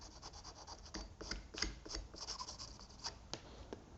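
Graphite pencil rubbed against the flutes of a router bit gives soft, continuous scratchy rubbing with small irregular strokes, close and fairly quiet, with no voices.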